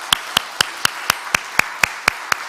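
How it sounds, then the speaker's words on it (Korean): Clapping for the Elpis worship team at a church prayer service comes as sharp, evenly spaced claps in a steady rhythm, about four per second, close and distinct with no talk. "우리 엘피스를 위해서 한번 격려의 박수를 한번 하면 좋을 것 같습니다"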